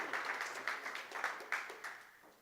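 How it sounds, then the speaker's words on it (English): Sparse, faint applause rises from a small conference room audience at a tech talk, a handful of scattered claps spread over a couple of seconds. "Please clap."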